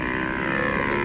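Bajaj Pulsar 150 motorcycle fitted with an SC Project exhaust, a steady loud engine drone with a rough low rumble, heard close and alone for about a second.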